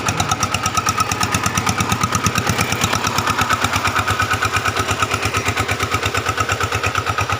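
An engine-driven water pump runs at a rice field, its motor chugging in a steady, fast, even rhythm, loud and close throughout with no pauses.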